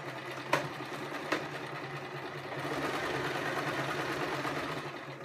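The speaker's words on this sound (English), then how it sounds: "we will effectively top stitch all the way along the edge and then do another three back and forth and back" A domestic sewing machine top-stitches along the top edge of a fabric shopping bag, a steady mechanical whir that rises slightly partway through, with two brief sharp clicks near the start, alone and fairly quiet.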